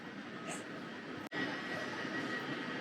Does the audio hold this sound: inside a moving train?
yes